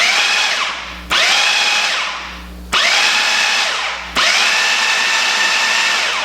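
A loud motorized whirring in three or four bursts, each starting abruptly then settling slightly, a food processor pulsed in short runs while making beer cheese dip.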